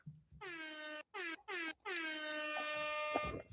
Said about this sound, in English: Maybe two times with an air horn.